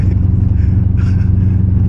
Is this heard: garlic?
no